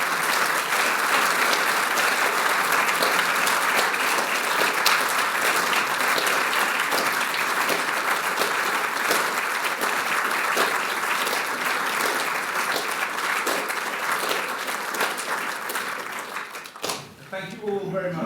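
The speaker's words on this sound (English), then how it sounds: "Should we not applaud Judith and her podium?" A prize-giving ceremony audience applauds warmly and without letup for about seventeen seconds, many hands clapping in a full, sustained roar before it tapers and stops near the end.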